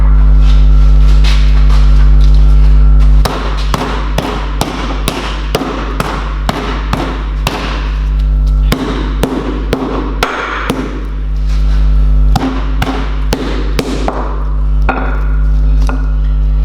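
Knife trimming a lamb cut on a butcher's cutting board: a long run of sharp, close knocks and taps at an uneven, quickening rhythm, with steady room hum underneath and no talk.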